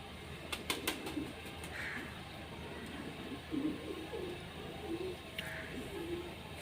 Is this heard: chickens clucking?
no